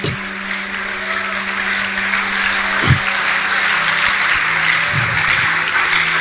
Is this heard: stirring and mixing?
no